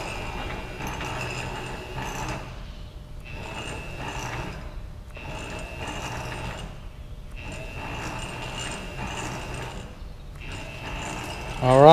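A servo motor on a Bridgeport milling machine runs and stops repeatedly, a steady whirring hum lasting a second or two each time and broken by short quiet pauses, about five cycles in a row.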